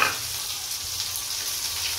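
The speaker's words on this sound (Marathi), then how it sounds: "कढईमध्ये टाकलेले कांदा लसूण आणि हिरवी मिरची पहिला तेल टाकून फोडणी करून घेतलेली" Onion, garlic and green chili tempering in hot oil in a wok give a steady, moderate sizzle with soft crackle, continuous and close, with no talk.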